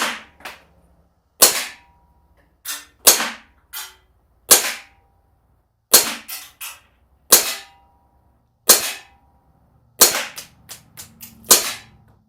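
Compact CO2 blowback BB pistol firing at a target outdoors, about nine sharp cracks close by, spaced at irregular intervals with short doublets and quiet gaps between, no talking.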